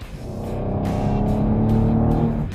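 A 2016 Chevrolet Camaro muscle car drives on Belle Isle in Detroit, its engine note climbing steadily and loud from inside the cabin as it accelerates.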